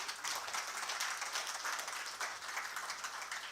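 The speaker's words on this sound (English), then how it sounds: "I think the panelists deserve a round of applause." An audience at a real estate summit applauds the panelists with a dense, steady wash of clapping from many hands, fairly distant and even throughout, with no voices.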